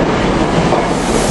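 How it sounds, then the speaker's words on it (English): A three-car SEPTA local on the 405 Warminster line pulls into the station, a loud, steady rumble of wheels and rail clatter filling the scene with no one talking. "The 405 Warminster train's coming in"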